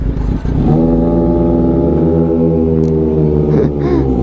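A Kawasaki Ninja ZX25R engine held at a loud, high, steady scream with strong harmonics, close by, briefly dipping near the start and at the end.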